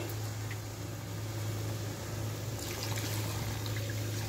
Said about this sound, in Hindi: ये देखिए इसमें पानी ऐड कर रहे हैं।